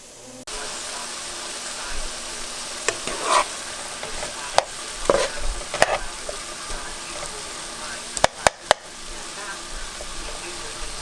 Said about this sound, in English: I'm just gonna stir up some seafood